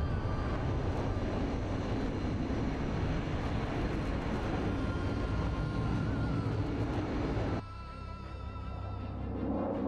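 F-5 fighter jet in a combat flight simulation game against a Rafale, a steady loud roaring engine drone that drops abruptly to a lower, quieter rumble near the end.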